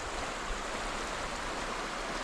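A small creek flows steadily, giving a continuous broad rushing wash with no pauses and no voices.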